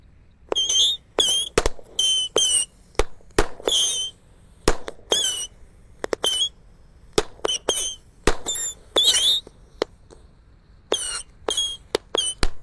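A 25-shot firecracker cake set off inside a hole in the ground fires a rapid, irregular string of loud, sharp bangs and crackling bursts, each with a brief crackle tail, up close and with no talk.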